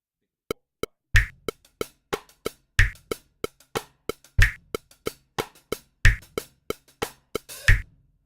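A dry drum groove with steady kick and snare hits and lighter ticking strokes between them, played at a steady rhythm with nobody talking.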